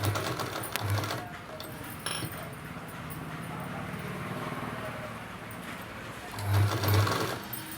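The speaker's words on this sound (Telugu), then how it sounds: "మళ్ళీ దాని మీద అంచుడు కుట్టి మీద అంచుడు కుట్టి పెట్టాలి గట్టిగా" A sewing machine stitches the edge of a dress top in bursts of fast mechanical whirring and clatter, with quieter stretches between runs and soft background voice.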